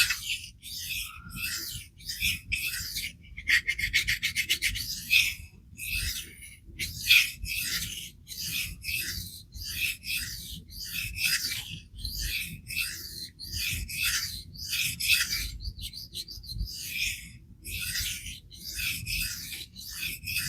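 A CPM S3 steel knife is stroked across a coarse-cutting 1K sharpening stone, giving a rapid series of scraping, rasping strokes in a steady back-and-forth rhythm, close and moderately loud.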